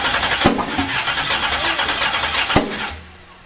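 A Chevrolet LS V8 swapped into a 1957 Chevy Bel Air cranks and fires, giving a loud, rough, broadband rumble with two sharp bursts before settling and dropping away at the end.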